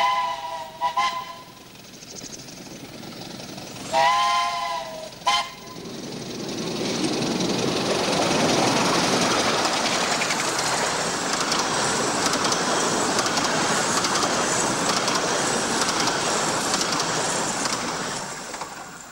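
Samson, a Romney, Hythe & Dymchurch miniature railway steam locomotive, sounds short whistle toots at a level crossing, then chuffs past with a rising, sustained hiss and rumble.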